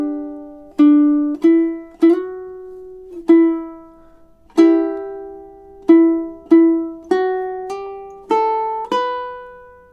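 A ukulele is fingerpicked through a slow melody of two measures, about a dozen bright plucked notes ringing out one after another and each decaying cleanly, close and alone without any voice.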